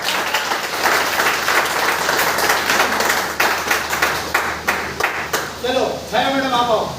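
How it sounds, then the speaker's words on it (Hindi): Audience at a leadership training program in Kota, Bilaspur claps together in a sustained burst of applause for a speech, loud and dense, thinning into scattered claps before a voice starts talking at the end. "तालियां बज लीजिए।"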